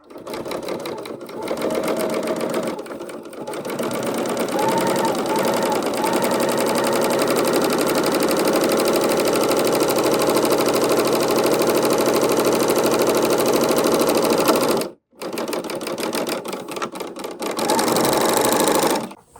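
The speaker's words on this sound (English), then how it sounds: "I'm going to line this up right up to the blade, but not cutting anything. And I'm going to stitch." A serger sewing machine runs a wide 2-thread wrap stitch along fabric edge for fringe, a loud, steady mechanical whir lasting about fifteen seconds, breaking off briefly and then starting again for a shorter burst.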